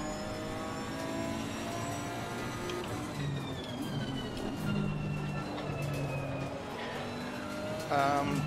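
A Nissan GT race car in the Assetto Corsa Competizione sim runs with a steady, droning engine note and shifting harmonic whine, holding a continuous level throughout with small surges and a brief rise near the end.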